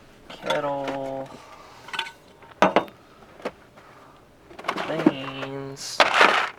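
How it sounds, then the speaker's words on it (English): A kettle is handled at a truck campsite on BLM land while coffee is made, giving a few sharp metallic clanks and knocks with brief ringing tones, close by, with short pauses between them. "Kettle."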